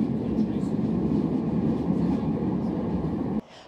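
A Metrolink tram rumbles steadily from inside the carriage at a stop, a dense close mechanical drone that cuts off abruptly near the end.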